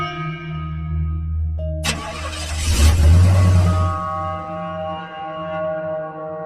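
Car that keeps stalling, push-started by hand. A steady low idle-like drone is broken by a sharp clunk, then the engine catches and roars loudly for about a second before settling back into a steady running hum. No one speaks.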